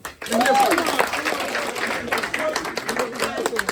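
Clapping rises from an audience at a community safety meeting in a conference room, a dense burst of applause that thins into scattered claps with voices mixed in.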